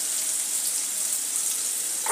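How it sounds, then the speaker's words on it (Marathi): Chopped onion sautés in a hot pan with a loud, dense, continuous sizzle that stays close and unbroken, with a brief stir near the end and no talking. "कांदा गुलाबी होईपर्यंत आपल्याला परतायचा आहे"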